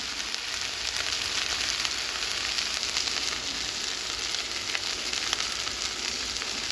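Okra sizzles steadily in a pan over a medium flame, a dense, even crackle of frying that carries on without a break and with no voices.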